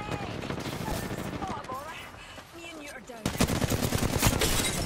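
Rapid gunfire crackles in a first-person shooter game, bursts continuing under shouted talk and growing louder and denser toward the end.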